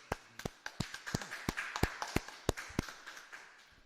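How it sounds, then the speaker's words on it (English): Steady, evenly spaced sharp claps ring out one after another at a moderate pace during a scripture class session, each distinct and fairly close, with a faint murmur of the room between them. "All right, clap it up."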